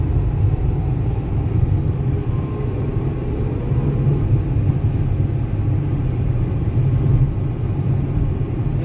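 A Renault Kwid's engine drones steadily on a test drive, a low, even rumble at constant loudness that runs unbroken with no voices.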